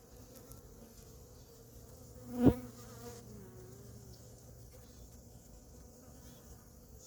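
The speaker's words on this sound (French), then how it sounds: "Alors les abeilles là, on se calme là." Honey bees buzz around an apiary hive during feeding, a steady low drone with one bee zooming loudly past the ear in a brief swelling pass before the hum settles again.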